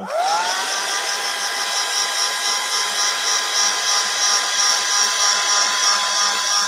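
Hair dryer blasting to dry a freshly painted surface, its motor spinning up with a rising whine in the first moment, then a steady, loud, close whirring hum and rush of air, no talk.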